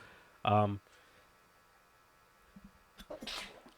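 A single sharp sneeze close by, followed after a pause by brief soft voices.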